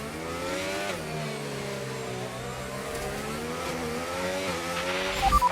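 Formula 1 cars racing around Monaco in F1 25, a sustained high engine whine with rising and falling revs, closing to a louder burst near the end.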